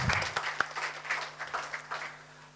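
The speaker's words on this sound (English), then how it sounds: "Round of applause, please." Brief applause for a ward councillor at a municipal governance seminar, a short scattered patter of clapping over a steady electrical hum in the hall.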